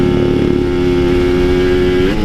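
Kawasaki Ninja two-stroke motorcycle climbing uphill, its engine held at a steady high-revving buzzing drone, loud and close, before the pitch rises briefly at the end.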